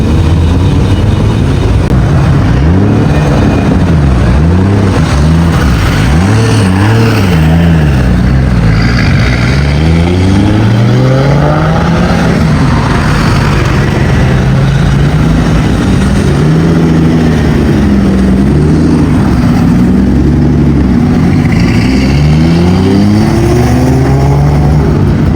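Group of Nissan GT-R cars at the Retro Havoc car event, loud and close, engines idling and revving repeatedly with rising and falling throttle sweeps, several cars overlapping for a sustained stretch.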